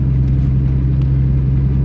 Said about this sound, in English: the exhaust is, I don't know, it's kind of rumbly.